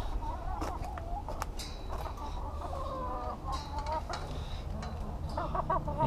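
Backyard hens cluck and murmur in a run next to a fence, several soft, chattering calls rising and falling up close over a steady low outdoor background, with no talking.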